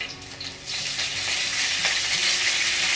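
Rice and green chillies sizzle in hot oil on a high flame for jeera rice, a strong continuous frying hiss with faint stirring scrapes, close and without voices.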